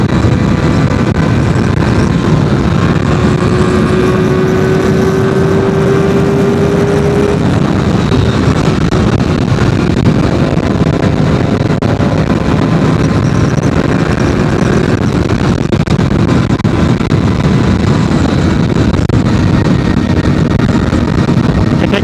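Modenas ZX-4R SE motorcycle on a test ride, a loud continuous engine roar mixed with heavy wind rush at speed, with a brief rising whine partway through and steady drone throughout.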